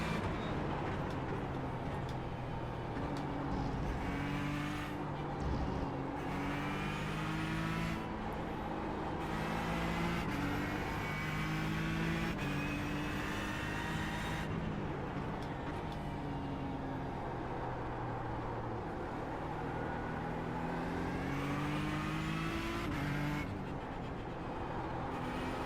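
A race car engine in iRacing on the Spa circuit, with a steady roar that climbs and drops in pitch through repeated upshifts and downshifts, continuous and fairly quiet throughout.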